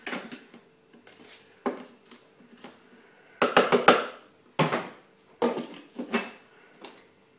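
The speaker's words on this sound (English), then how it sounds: "The mix is scraped down." Frangipane almond batter for a pear and almond tart scraped down the sides of a mixing bowl, a series of short close scraping strokes in separate bursts, some louder, with quiet gaps between.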